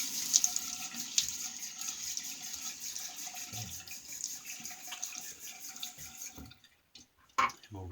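Tap water runs steadily into a sink as a face is wetted before a shave with a vintage Bi-Bo travel razor, a close hiss and splash that breaks off near the end into a few louder drips and splashes.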